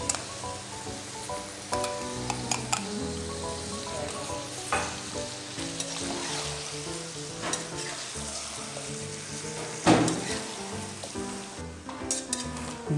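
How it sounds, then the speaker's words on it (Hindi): Onions fry with ginger garlic paste in a pot for aloo gosht, a steady close sizzle with occasional stirring scrapes and clinks of a spoon against the pan. "2 मिनट के फ्राई के बाद आप इसके अंदर साथ में ही जिंजर गार्लिक का पेस्ट डाल दो।"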